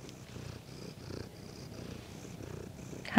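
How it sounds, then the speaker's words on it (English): A domestic cat purrs close by in a quiet room at home, a steady low rumbling pulse with soft rhythmic breathing cycles, ending in a sudden louder rustle. "You guys don't see Star that much because she's my husband's kitty"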